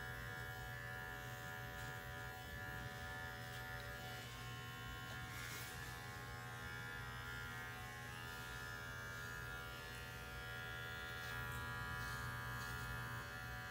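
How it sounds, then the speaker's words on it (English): Electric dog clippers with a 40 blade trim a poodle's coat, giving a faint, steady buzz that hums unbroken from start to finish. "I'm taking my clipper straight in with a light touch and sharpening up the edges"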